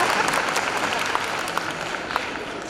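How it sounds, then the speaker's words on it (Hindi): An audience at a lamp lighting ceremony at an educational institution claps in a thick, continuous round of applause, with a few sharper individual claps standing out near the end. "बजाओ ताली, बजा लो कुछ।"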